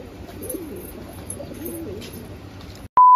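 Pakistani Golden and old-breed pigeons coo repeatedly at close range, soft rolling calls over a low background, cut off near the end by a sudden steady electronic tone.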